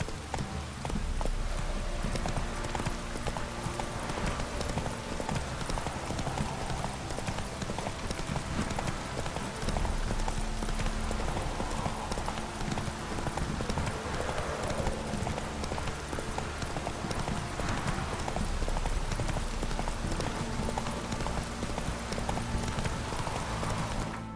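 Hooves of Roach, a horse in the Witcher 3 video game, clip-clopping in a steady galloping rhythm throughout, loud and continuous over dense game ambience.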